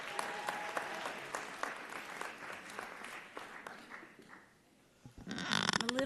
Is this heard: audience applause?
yes